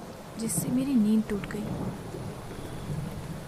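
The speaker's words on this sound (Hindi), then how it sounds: "बारिश हो रही है।" Heavy rain falls steadily at night, a continuous wash of noise under a voice speaking briefly near the start.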